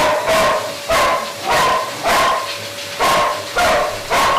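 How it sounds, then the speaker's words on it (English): Collie barking repeatedly at a grooming appointment, eight loud, close barks in a steady rhythm about every half second, with no talking over them. "she did not stop barking"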